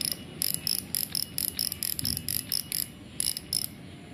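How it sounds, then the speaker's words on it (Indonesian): A fishing spinning reel in the 300–400 thousand rupiah class has its drag clicker ratcheted by hand, giving bursts of quick, bright, close clicks in an uneven rhythm with short pauses between turns. "kemudian untuk clicker seperti ini"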